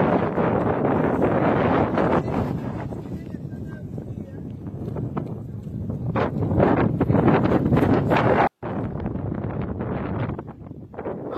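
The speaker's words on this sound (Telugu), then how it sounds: "చూడండి గాలి ఎంత బీభత్సంగా వీస్తుందో." Strong wind blows at a fishing spot, roaring and buffeting the microphone in a loud, continuous rush with gusty surges and a brief dropout.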